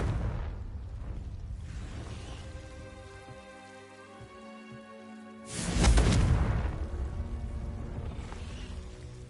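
A Confringo fire spell exploding in Hogwarts Legacy, a loud sudden blast midway that booms and then fades into a rumbling tail, set against a humming ambient game soundscape.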